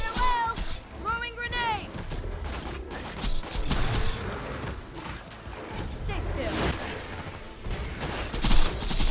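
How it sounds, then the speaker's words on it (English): Borderlands 2 combat: a thrown grenade blast mixed with dense bursts of gunfire, sharp repeated cracks and impacts over game effects, while a character voice is heard calling out during the fight. "Throwing grenade!"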